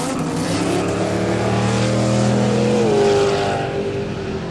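A drag race car's engine revs hard as it drives up the valley at a no-prep street drag day, a loud, rising engine note that swells and climbs in pitch before easing off slightly.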